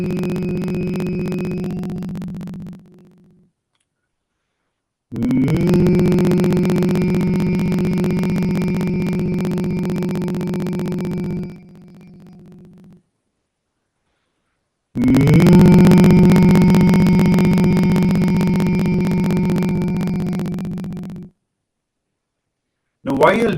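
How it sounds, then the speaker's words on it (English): A group of people hums together in long sustained tones, each steady drone lasting several seconds before stopping, with silent gaps between. "intensely, without stopping, like as long as possible, just hum"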